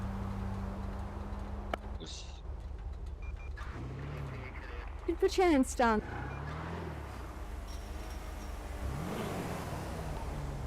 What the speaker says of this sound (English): can you please turn off your engine for me?